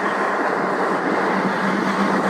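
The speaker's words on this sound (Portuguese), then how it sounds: "a linha férrea, onde passa o trem" A train runs along the railway line between the mountain and the sea in Cape Town, a steady, loud, continuous rumble and roar with no clear breaks.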